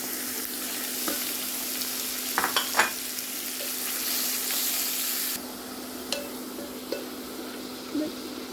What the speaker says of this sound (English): Fry until it turns all to brown.